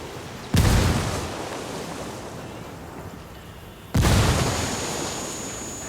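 Two grenade explosions go off in the video game Ghost Recon Wildlands, about three seconds apart, each a loud, sudden boom that fades into a long rumbling decay.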